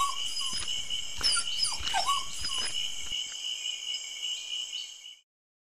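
A cartoon dog yips and whimpers over a bed of chirping crickets, with a few short cries in the first few seconds before the night ambience fades to silence.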